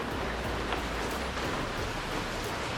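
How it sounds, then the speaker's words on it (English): Steady rain pours down outdoors near a shop, a continuous, even hiss of drops filling the whole moment without pause, no voices present. "Man, it's raining."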